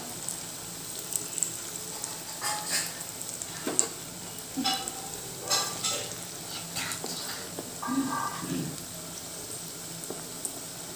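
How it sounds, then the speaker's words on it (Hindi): Pui saag pakoras fry in hot oil, a continuous bubbling sizzle broken by scattered soft scrapes and taps as batter is lowered in, fairly close and without voices. "हमारा तेल गर्म हो चुका है, अब हम धीरे धीरे तेल में इसे डालेंगे।"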